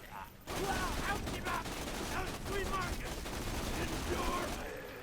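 Rapid bursts of gunfire from the video game Borderlands 2, steady and moderately loud for several seconds, with a faint voice underneath.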